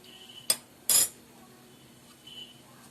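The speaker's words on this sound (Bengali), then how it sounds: "ঘিটা দিয়ে নাড়িয়ে দিতে হবে।" A metal spoon clinks twice against a pan while ghee is stirred, two sharp close knocks followed by softer scraping, in a quiet kitchen.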